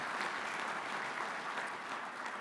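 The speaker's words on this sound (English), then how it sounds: "Let's give him a round of applause" Steady applause from an audience at a Kentucky Farm Bureau gathering, a dense, even patter of many hands clapping throughout with no voices standing out.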